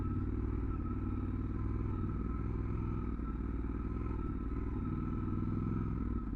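A Triumph Scrambler 1200 XE motorcycle riding off road, its engine a steady low rumble close by with faint clatter from the rough track, continuous and unvaried for several seconds without talk.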